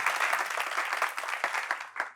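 Audience applause at a French talk show taping, a steady wash of many hands clapping throughout with a few sharper claps standing out, close and fairly loud.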